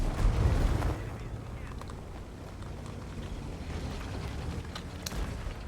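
A tank gun fires in World of Tanks: one loud, deep booming shot opens and then decays into a low engine rumble, with faint game effects and a voice talking underneath.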